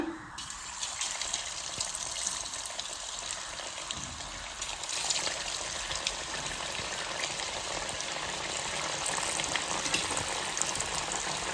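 Onion snack frying in shallow-to-deep oil over a low flame, with a steady, even crackling hiss that sounds almost like running water, continuous and fairly loud throughout with no talking.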